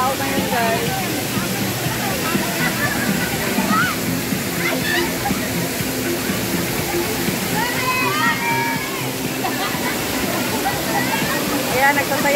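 Waterfall at a hidden falls pouring steadily as broadband rushing water, with splashing and crowd voices and chatter throughout from a busy gathering of people nearby.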